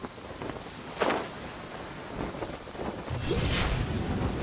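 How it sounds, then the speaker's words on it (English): Steady rain with soft gusts in the game Genshin Impact, a distant thunder rumble near the start and a heavier swell of rainfall toward the end. "It's raining again."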